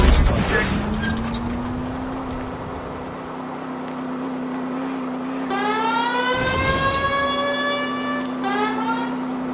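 A police car siren wails in the L.A. Noire video game, rising and falling over a running engine, with a second layered siren tone joining partway through; voices may be faintly present beneath.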